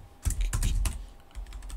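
Several quick keystrokes on a computer keyboard in a drawing program, a short burst of taps then a pause and a few softer clicks, close and clear with no talking.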